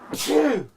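A single sharp sneeze bursts out, then trails into a short voiced tail, heard close and fairly loud during a live-streamed Warhammer 40,000 tabletop tournament match.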